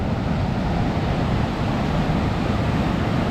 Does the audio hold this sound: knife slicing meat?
no